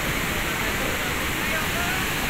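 Blangsinga waterfall in Bali roars as a dense, constant broadband rush, close and loud for the whole stretch with no break.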